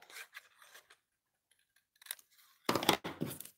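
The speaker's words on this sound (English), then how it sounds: "I want you to take your scissors and we trim that off right there" Scissors trimming paper for handmade slide cards, a few short crisp snips and rustles, close and quiet, with a louder cut near the end.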